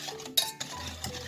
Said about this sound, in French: je ne cesse de touiller, de bien mélanger